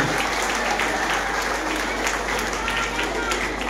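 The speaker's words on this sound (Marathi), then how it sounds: "सर्वांनी आपण आज टाळ्या वाजवून त्यांचं अभिनंदन करण्यात आले." An audience applauds at a prize distribution ceremony, with dense, continuous clapping from a large crowd that stays loud and even for the whole stretch.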